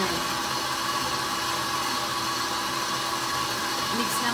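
An electric mixer whirs steadily, beating two eggs into a batter for birthday treats, a constant mid-volume motor drone at close range with no break.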